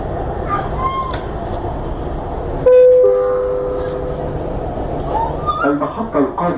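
A metro train runs between stations toward Emirates station, a steady broad rumble with thin high wheel squeals and a sustained tone partway through, while an onboard voice announcement plays over it.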